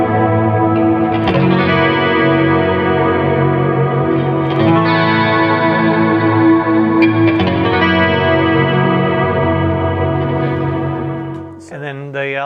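Electric guitar through a Kemper Profiler on a rock profile, a sustained chorus-washed tone with echo and light grit, chords ringing loud and close until a brief shift near the end.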